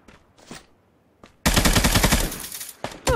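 Gunfire in the battle royale game Knives Out: a sudden loud, sustained burst of rapid automatic shots fills the middle of the clip, after a few quieter isolated pops, then one more sharp burst at the end.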